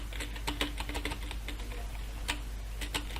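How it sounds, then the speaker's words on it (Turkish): Rapid, uneven clicks of keys being struck on a computer keyboard, close and fairly quiet, over a low steady hum. "Klavyenin sesi hayvan gibi geldi."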